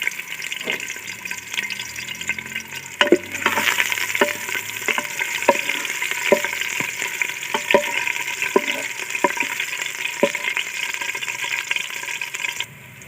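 Steady crackling sizzle of onions frying in hot oil in a pressure cooker, with scattered clinks of a utensil stirring against the pot throughout.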